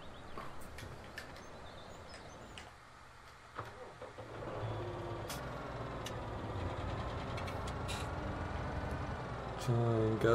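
A newly bought tractor hitched to a sprayer runs with a steady, close engine rumble. It swells after a few seconds of quieter clatter and clicks, then holds a constant drone to the end.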